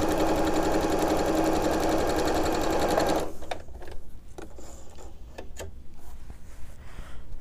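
A sewing machine stitches a quilt block in a steady, loud, rapid run for about three seconds, then stops, leaving softer clicks and fabric handling nearby.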